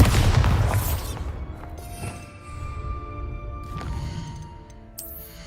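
A Bombarda or Confringo spell in a Harry Potter video game bursts with a heavy boom at the start, then ringing magical tones and smaller impacts trail off, with another sharp hit near the end.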